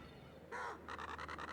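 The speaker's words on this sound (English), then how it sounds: "I think that was all the crows there" Crows cawing in the video game Paper Mario: The Thousand-Year Door remake, first a single caw, then a quick run of five or six short caws, clear and alone.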